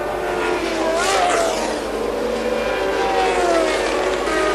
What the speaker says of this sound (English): Nelson Piquet, meanwhile, comes into the pits to change his tyres.